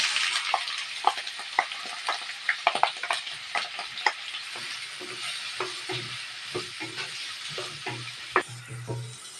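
Two small, thinly sliced onions sizzle in hot coconut oil, crackling steadily while a spatula stirs and scrapes them with irregular taps, and no one speaks.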